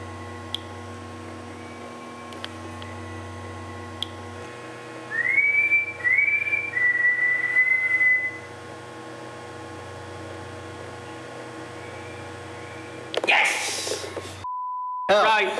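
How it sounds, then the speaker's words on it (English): Faint whistled notes, short rising and falling phrases, sound inside a lighthouse against a steady electrical hum, with a few scattered beeps and a burst of noise near the end. "I've just heard a whistle."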